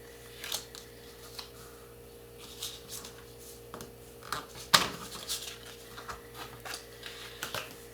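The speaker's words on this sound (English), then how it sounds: "And I'm just going to cut that piece." Paper being cut for a seashore lighthouse model, with soft, intermittent snips and rustles of paper in a quiet room and one sharper click partway through.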